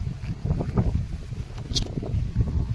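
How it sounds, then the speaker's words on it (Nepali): Steady wind blows across the microphone at Chilajhar Chowk, Kirtipur, Nepal, with low rumbling gusts, continuous and fairly close, with no voices. "यहाँ चाहिँ हामी यस्तै एकदम हावा आइरहेछ, शीतल"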